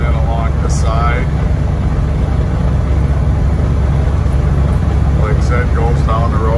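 A 1974 Chevrolet Blazer four-wheel drive rolls down the road with a loud, steady engine and road drone heard from inside the cab, while someone talks over it.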